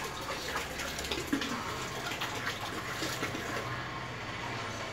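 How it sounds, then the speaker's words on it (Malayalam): Jaggery water being poured into a large container for an aquaculture mix, a continuous gushing flow with a faint splash partway through, fairly quiet and with no talk over it. "ശർക്കര പാനി ഒഴിക്കുകയാണ്."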